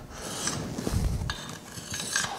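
A tuned hand scraper drawn across a wooden workpiece, producing a few short, close rasping strokes at moderate volume.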